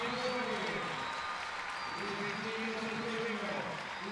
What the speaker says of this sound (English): And that is for Carla Rebecki, who is going to get a huge round of applause for her 200th cap for Argentina.